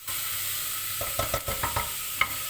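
Vegetables fry in olive oil in a pan, a constant bright sizzle with a run of sharp splattering pops and stirring clatters midway through.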